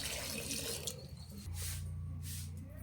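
Water poured into a pressure cooker holding potato, green peas and soaked black chickpeas, a short splashing pour close by with a trickling finish, no talking.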